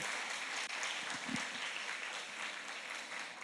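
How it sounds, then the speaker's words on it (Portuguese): Applause from a church congregation at a Christian women's conference, a steady dense wash of many hands clapping throughout, fairly even in level with a brief dip near the start. "Aplauda ao Senhor mais uma vez"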